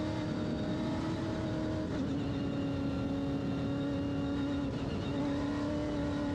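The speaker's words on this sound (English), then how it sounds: "It's a nice Class 10 car built by Full Potential." A Class 10 off-road race car built by Full Potential runs during the NORRA Baja rally stage from Ensenada to San Felipe. Its engine makes a steady, sustained drone at moderate distance, with no talking.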